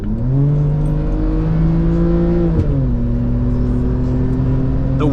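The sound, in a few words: car accelerating, 2006 naturally aspirated six-cylinder engine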